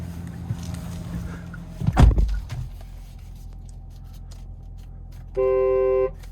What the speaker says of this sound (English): Love that horn sound